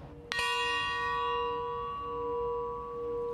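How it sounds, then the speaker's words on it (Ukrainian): A memorial church bell strikes once and then hangs in a long, ringing, slowly fading hum, clear and alone in a quiet setting at a remembrance for fallen soldiers. "Стільки разів лунатиме дзвін пам'яті сьогодні?"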